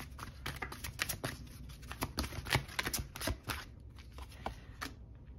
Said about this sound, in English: I want to keep shuffling